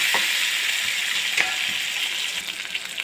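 Peanuts, green chilli, curry leaves and ginger sauté in a pan for South Indian mango-coconut rice, giving a loud, continuous sizzle broken by a few sharp stirring taps.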